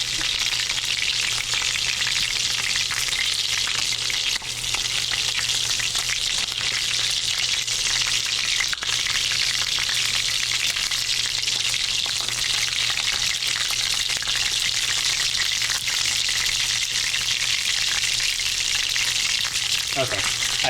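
Potatoes fry in duck fat in a pan, a loud, continuous crackling sizzle that carries on unbroken from start to finish, close by and with no talking over it.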